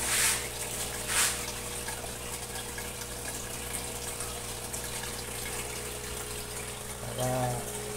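An aquarium vacuum sucks water out of a fish tank with a steady, close pump hum and a continuous gurgle of flowing water, plus a few brief louder bursts.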